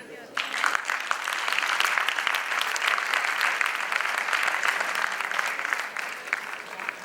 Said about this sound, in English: let's applaud the debater from BITM